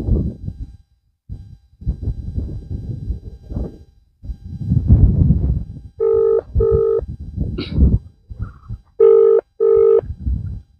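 Telephone ringback tones, several short two-burst rings spaced apart, on a call to a farmer that goes unanswered. Talk, close and clear, comes before and between the rings.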